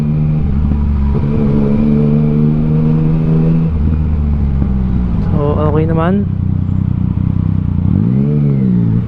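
Yamaha Tracer 900 motorcycle fitted with an Akrapovic full exhaust system, riding through traffic with its engine droning and revving up and down, heard continuously beneath someone talking throughout.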